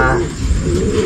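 Racing pigeons coo in a breeding loft, low rolling murmurs close by that run continuously for about a second, with a steady hum of background noise underneath.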